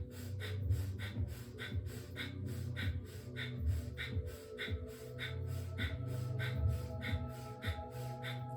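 Deep rhythmic breathing exercise from a vitality-focused fire-breath practice. About fifteen forceful, evenly paced breath bursts repeat close to the mic over a low steady hum, with no talking.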